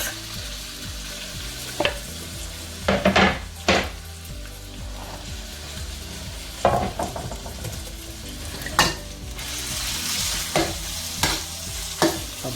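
Chicken pieces with garlic and green beans stir-fry in a wok over moderate heat, a constant sizzle broken by repeated sharp scrapes and clacks of a utensil tossing the food.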